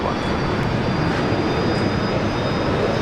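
A Virgin Australia Velocity passenger jet taking off at Brisbane Airport, a steady, loud broadband engine roar holding constant throughout, heard from outside the airfield with no voices.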